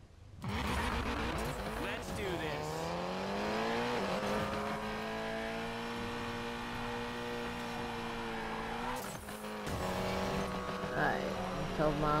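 A racing car engine in Need For Speed Payback during a one-on-one race against a Porsche, with loud sustained revving that rises through the gears, a brief drop at a gear change and some tire noise.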